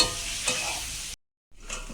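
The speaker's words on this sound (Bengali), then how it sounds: "আলুটাকে একদম লাল করে ভেজে নিতে হবে।" Potatoes seasoned with salt and turmeric fry in a pan with a steady close hiss and sizzle, cut by a brief gap of silence before the frying resumes.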